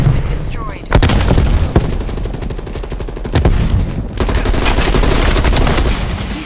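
Grenade explosions and gunfire in the video game Call of Duty Black Ops Cold War, with sharp booms and rapid bursts of shots over a dense battle background, and voices talking.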